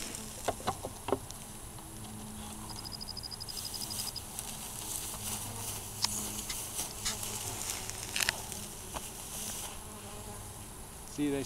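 A swarm of honeybees buzzes steadily outdoors, a faint constant hum of many wings with occasional louder passes of single bees flying close.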